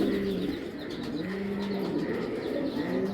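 Pigeons, including red checker and pied birds in a breeder's loft, coo steadily in low repeated rolling calls, several birds overlapping nearby with faint chirps in the background.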